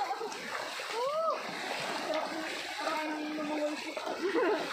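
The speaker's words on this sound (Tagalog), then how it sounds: "Ito na yung sapa na sinasabi." Shallow creek water flowing and splashing close by in an outdoor swimming spot, a steady bright rush with small splashes, while people talk and birds call faintly over it.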